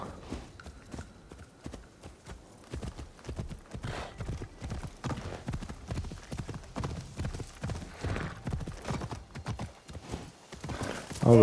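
Horse galloping bareback at full pelt in Assassin's Creed Shadows, quick rhythmic hoofbeats thudding steadily and close, with a brief whinny near the end.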